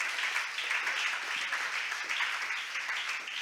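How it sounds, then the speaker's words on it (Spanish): A church congregation applauds together, a dense, sustained wash of clapping that holds steady throughout, without any speech on top. "Fuerte ese aplauso al Señor de la gloria."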